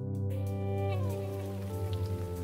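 Rain falls as a steady, close hiss of drops on a surface beneath sustained tonal humming sounds, with no voices.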